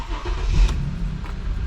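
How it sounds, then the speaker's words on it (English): Mercedes W204 C300 engine cranks and catches into a steady idle, close and fairly loud, right after repair work on a previous no-start fault. "So let's start the car."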